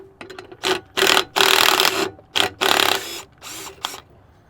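A ratchet wrench works loose a clamp on a Peterbilt pull truck, with loud bursts of rapid clicking that come in several separate strokes and short pauses between them.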